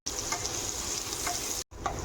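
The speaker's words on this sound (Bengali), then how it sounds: "তেলটা গরম হয়ে গেছে, কেটে রাখা পেঁয়াজ কুচি আর গরম মশলা সব দিয়ে দেবো।" Chopped onions and garam masala fry in hot oil for a mutton curry, giving a loud, continuous close-up sizzle with faint stirring scrapes and one brief break near the end.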